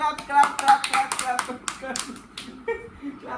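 Hands clap in a quick burst of sharp claps, then a few scattered taps follow during a lively carrom board game between a dad and children at home, with voices talking over the claps.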